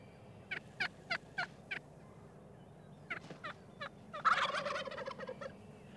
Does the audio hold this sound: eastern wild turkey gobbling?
yes